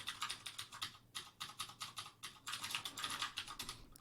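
Rapid keystrokes on a computer keyboard as the WASD keys are pressed, steady clustered taps with short pauses, close and moderately loud with no speech.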